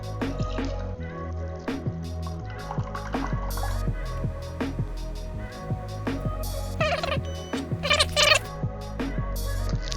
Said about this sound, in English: we're gonna release the butter by pressing our button right here and holding it, and we're gonna watch the goodness drop